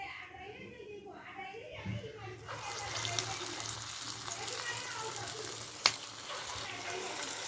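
Urad dal fritters (minapa punukulu) drop into hot oil in a kadai, bursting into a loud, steady sizzle that keeps bubbling; a voice speaks briefly at the start before the frying takes over.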